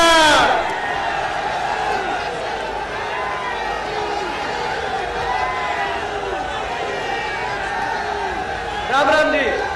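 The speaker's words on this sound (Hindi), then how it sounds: "जोरदार तालियों से स्वागत करें उनका।" A large outdoor political rally crowd in Gohana, Haryana, cheers and whoops loudly, with a swell at the start and again near the end, while an amplified announcer's voice carries over the noise.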